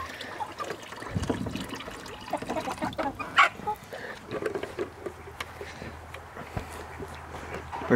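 Young chickens cluck and chatter in short scattered calls out in a pasture, fairly close, over a soft trickling background and occasional rustling, with no speech.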